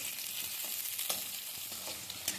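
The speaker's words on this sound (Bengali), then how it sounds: "লঙ্কাটা একটু আমি নেড়ে চেড়ে ভেজে নিচ্ছি" Kashmiri red chillies stirred and fried over a raised gas flame for a red chilli pickle, giving a continuous bright sizzle with soft scraping stirs throughout, close and steady, no voices.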